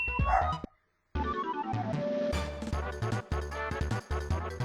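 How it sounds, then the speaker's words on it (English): A dog in the video game Super Mario RPG barks in a quick run of loud, close yips and woofs, broken by one short silence near the start. "Hello, dog, you are barking."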